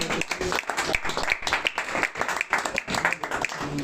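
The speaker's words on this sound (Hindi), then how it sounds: "नीलेश मिश्रा के लिए जोरदार तालियां।" An audience at a live stand-up comedy show in Ahmedabad claps in a dense, steady burst of applause for a short stretch.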